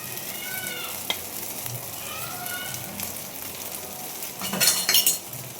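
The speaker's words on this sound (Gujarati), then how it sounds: "જલ્દી જલ્દી આપણે તેલ ઉમેરશું." Oil added to puffed rice appe soaked in buttermilk sizzles steadily in the pan, with faint voices underneath and a burst of louder spattering and metal clatter near the end.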